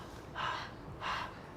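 A voice imitates panting breath to model the H sound in phonics, two short breathy exhalations about half a second apart, close and soft.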